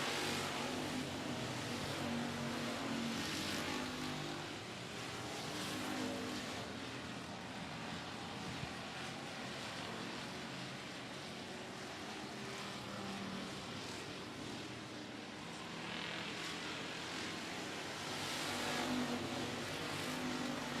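Sprint cars racing at a speedway, a continuous loud engine roar from the pack that swells as cars pass near and eases off as they move away, sustained through the whole stretch.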